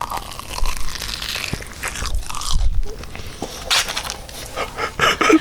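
Crunchy bites into a large chicken nugget from a Japanese Lawson convenience store, close and crisp, with several distinct crunches and chewing noises spread across the clip and no talking.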